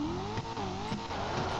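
A car driven in the GTA 5 Online video game, a continuous engine drone whose pitch rises and dips as it revs, with faint tyre noise, close and steady, with no talking.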